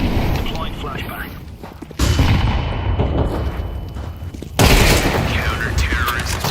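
Flashbang and gunfire in a Counter-Strike 2 match: loud, dense bursts of blasts and shots with abrupt jumps in level near 2 and 4.6 seconds, continuous and close, with game noise layered throughout.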